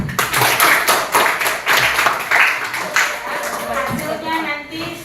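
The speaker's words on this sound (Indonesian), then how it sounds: "Tepuk tangan dulu untuk si Dila." Classroom students clap for a classmate with a brisk, loud, dense burst of applause that thins out toward the end.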